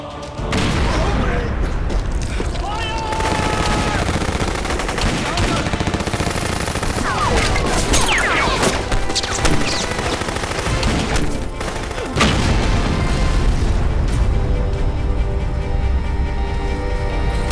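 Gunfire in a Hindi war action film about the Indian Army, with bursts of shots and booms over a loud, dense battle mix that continues throughout, with voices heard in the clip.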